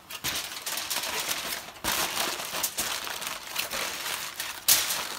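Heavy duty foil crinkles and crackles steadily as it is wrapped around a brisket for the Pit Barrel Cooker, a close, busy rustle with brief pauses and one sharp crinkle near the end.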